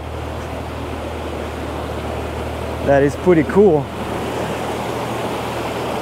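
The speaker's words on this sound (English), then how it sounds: "Here comes the river undercutting under this mountain, and then there's this small waterfall" A small waterfall and fast-moving river rush through a narrow canyon below a mountain near Toquerville Falls. The water makes a steady, close roar, and someone speaks briefly over it.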